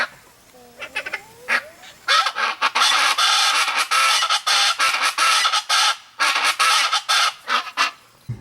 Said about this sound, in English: y'all need to look up what a chakalaka bird is and hear how it sounds